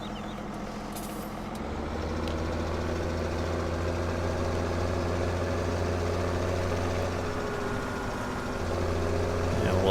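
Tractor engine idling and rumbling in Farming Simulator 17, a steady low drone with a constant mechanical hum that grows slightly louder toward the end, heard alone and close.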